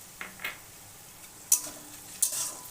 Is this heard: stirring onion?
yes